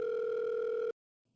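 A steady telephone line tone, as heard after dialing three numbers on a wall phone in a horror audio drama, holds for under a second and then cuts off abruptly into silence.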